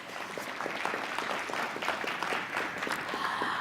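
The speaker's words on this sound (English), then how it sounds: "Can we give them a warm, welcoming round of applause as they join our conversational space?" A seated audience at a business summit for small enterprises gives a warm, welcoming round of applause, steady and full-bodied throughout with no voices over it.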